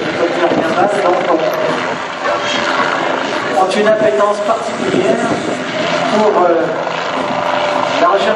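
A low-flying helicopter drones steadily overhead with a continuous rotor and turbine roar that stays loud throughout, while someone speaks French over it.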